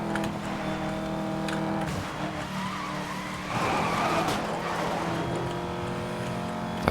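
Pagani Huayra supercar in the racing game Need for Speed: Most Wanted (2012), engine roaring steadily under acceleration with tire skidding and squeal, a sustained loud drive with a swell around the middle.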